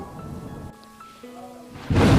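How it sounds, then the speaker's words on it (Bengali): Thunder and rain used as a sound effect in a village horror story set on a pitch-dark night: a hollow tonal rumble gives way to a loud, sudden rushing burst of storm noise at the end. "চারিদিকে ঘুটঘুটে অন্ধকার মাঝে মাঝে বিদ্যুৎ চমকাচ্ছে"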